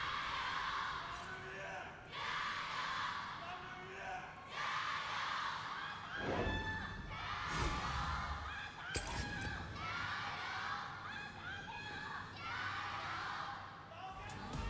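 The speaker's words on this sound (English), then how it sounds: "The crowd got excited. Now they're just chanting to a Sepiad screen." Loud, sustained roar of an esports crowd cheering and chanting at a 2018 LPL Summer Split match between Team WE and Rogue Warriors, with rising whoops and swells of voices filling the hall throughout.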